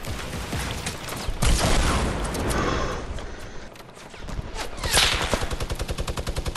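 Rapid gunfire bursts from a minigun and rocket blasts in a video game firefight, with dense rattling shots and heavy booms following close on each other.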